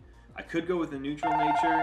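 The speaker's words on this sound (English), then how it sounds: "And that's the phone." A telephone rings with a steady repeating electronic tone over the last half second, close by, right after a person finishes speaking.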